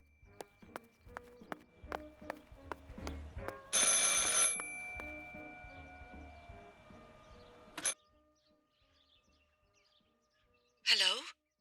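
An old telephone rings in the video game Martha Is Dead, with repeated bell bursts in a steady rhythm, followed by louder electronic tones and a short chirping flourish near the end.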